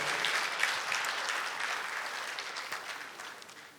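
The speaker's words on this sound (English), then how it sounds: "Ladies and gentlemen, please, a round of applause for yourselves for coming out tonight." A comedy-show audience giving a dense round of applause, many hands clapping close together in a broad, continuous wash that slowly fades over a few seconds.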